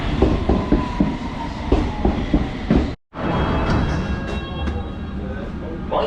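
A London Underground tube train near Acton Town runs loud and close, with rhythmic clickety-clack of wheels over rail joints, a rushing rumble, a brief cut and faint whining tones.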